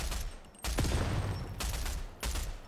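Shotgun fire in a video game: three or four heavy booming blasts spaced about half a second to a second apart, fairly close and loud, with no talking over them.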